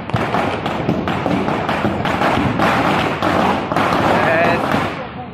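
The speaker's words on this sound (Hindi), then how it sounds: "इतना बड़ा सा पटाखा फूट गया" A loud, dense crackling burst of Diwali night firecrackers goes off continuously, with thuds and pops running throughout, while a voice talks over it.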